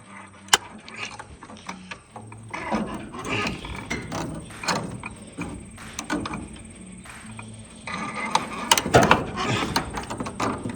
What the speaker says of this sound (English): I'm just gonna crank it till this gets a little snug